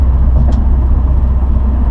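Subaru WRX fitted with an Invidia Q300 catback exhaust cruising in fifth gear at about 45-50 mph, a steady low engine and road drone that stays even and subdued throughout, with no voices.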